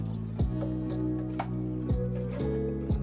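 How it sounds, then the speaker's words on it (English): Knife cutting the fat cap off a steak, several firm strokes landing about every half second against a steady background hum, with no talk. "First things we're gonna do is take this fat cap off."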